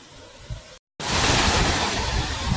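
Water pours down at Takori Waterfall in a loud, steady roaring rush, heard close after a brief quieter stretch broken by a short gap.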